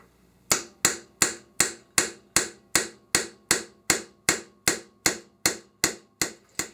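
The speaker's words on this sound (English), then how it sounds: "I'm using a larger punch than I actually need, so I can get a good solid hit on the top of that roll pin." Steel punch struck repeatedly with a hammer to drive a roll pin into an AR-15 upper receiver: about fifteen sharp, loud metallic hits at a steady, even rhythm, each ringing briefly, with no talking.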